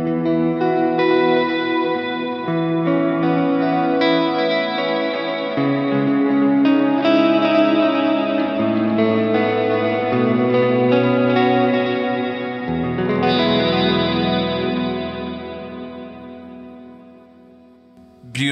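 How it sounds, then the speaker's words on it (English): Electric guitar played through a Line 6 POD Go with delay and reverb effects, sustained chords ringing out in a continuous, echoing wash, loud and close, that fades out near the end. "So here's the delay and reverb together."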